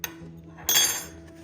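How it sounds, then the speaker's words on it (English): Metal spoons knock against a drinking glass, giving a brief close clink followed by a bright ringing chime that fades within a second. "clip each spoon to one side of the glass with your alligator clamps"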